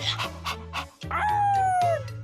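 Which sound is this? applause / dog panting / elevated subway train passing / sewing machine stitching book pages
dog panting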